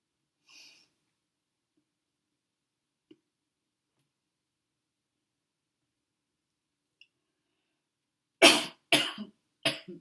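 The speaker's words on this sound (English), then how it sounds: "I have to clear my throat because I've been speaking a lot" A near cough and throat clearing, several short harsh bursts close together after a long near-silent stretch with a few faint clicks.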